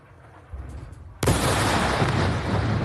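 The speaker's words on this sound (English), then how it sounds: "Watch this explosion. You can see the shock wave in the atmosphere." A large explosion from a military strike sets off a sudden, loud broadband blast that rolls into a sustained, rumbling roar after a quieter stretch of faint background noise.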